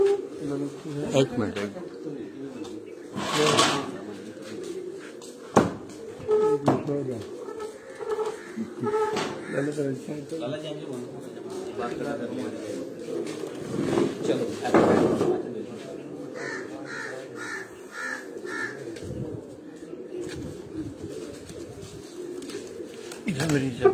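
Pigeons coo from a rooftop, low calls mixed with crow caws and bursts of louder noise, while someone talks through most of it.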